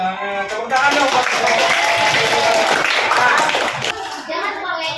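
Children and adults clap together in a classroom, a dense burst of applause lasting several seconds over scattered young voices, then fading back to a teacher's talk.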